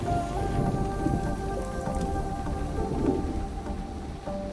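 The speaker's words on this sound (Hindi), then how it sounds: "ऐसा लग रहा है तूफान आने वाला है" Steady rain pours on surfaces with a low rumble of thunder beneath as a storm approaches in a Hindi-dubbed Telugu movie scene; the downpour is dense and continuous throughout, with no talking.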